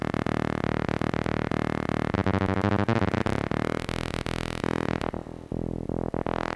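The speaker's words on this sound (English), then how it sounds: "This is how you can get some cool like buzzy noises." A buzzy, looped synthesizer tone repeats rapidly and steadily, its pitch and texture shifting as it goes, loud and continuous throughout.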